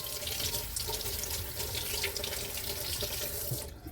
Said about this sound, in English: Even though I have the glove on, I'm going to rinse my hands,